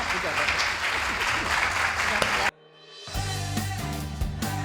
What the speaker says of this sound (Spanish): Y despedimos con un fuerte aplauso y con con mi más profundo agradecimiento para Elia